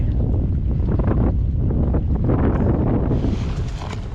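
Strong sea wind buffets the microphone on a fishing boat on open water, a continuous loud rumbling roar with gusting surges throughout.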